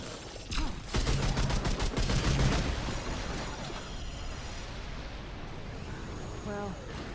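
Burst of rapid gunfire from creatures in Remnant II, loud crackling shots clustered early, then a rumbling, noisy tail fading under the game's background.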